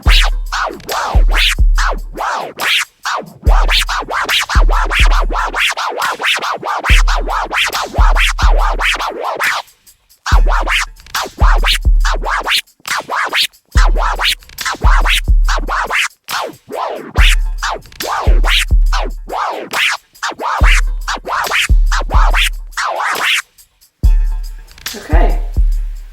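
A DJ performs tear scratches on a record over a thumping beat, with rhythmic, rasping swipes layered on a steady kick pattern, loud and close, with brief pauses between phrases.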